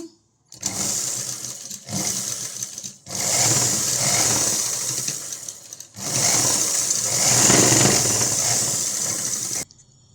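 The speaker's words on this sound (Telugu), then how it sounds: "మళ్ళీ ఇంకో స్టిచ్ అయితే వేస్తున్నాను." An umbrella-style long frock is stitched on a sewing machine, which runs in several loud, close bursts of rapid whirring and needle chatter separated by short pauses.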